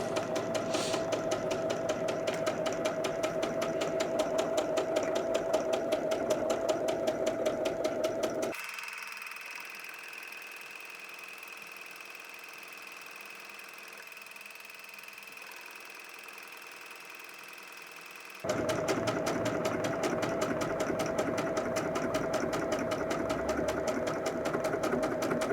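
A Bernette b77 sewing machine stitches steadily and close at hand through fabric backed with stabilizer, runs in two bursts with a quiet pause in between while a faint hum lingers, then starts up again.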